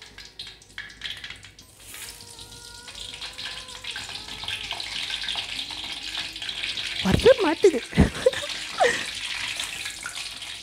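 Salted eggplant pieces fry in hot oil, a hissing sizzle that swells and crackles louder toward the end, with someone speaking briefly near the start.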